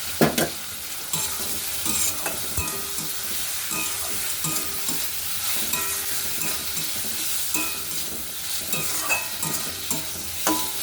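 Chopped tomato fries with onions in a pan, a constant sizzling hiss broken by repeated stirring scrapes of a spoon against the pan, close and steady with no speech.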